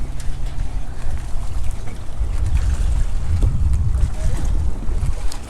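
Boat on the green water of Khanpur Dam, with a steady low rumble of engine and wind noise filling the whole stretch, the sound holding fairly loud and constant throughout.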